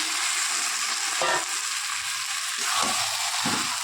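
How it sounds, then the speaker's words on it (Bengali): Marinated chicken sizzling in hot oil for biriyani, a dense, steady frying hiss with a few soft stirring scrapes and bubbling bursts, close and continuous. "এবার দেখো আমি ম্যারিনেশন করা যে চিকেনগুলো ছিল তো ওটা দিয়ে দেবো"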